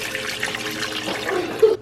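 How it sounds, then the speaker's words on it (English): Water poured from a container into an Instant Pot full of dried chilies, a steady short splashing stream that ends abruptly after under two seconds. "I am just going to add some water."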